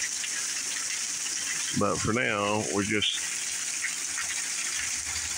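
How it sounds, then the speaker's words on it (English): Heavy rain from Hurricane Helene pours down in South Carolina, a dense, steady wash of sound throughout, and someone speaks briefly over it. "here in South Carolina, the water is pouring out of the sky"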